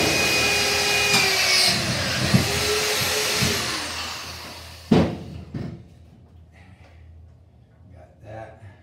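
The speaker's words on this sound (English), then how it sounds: "so we'll drill a hole." A power drill bores a hole through the body of a food truck, its motor whining loudly and steadily for about five seconds before stopping, followed by scattered clanks and handling knocks.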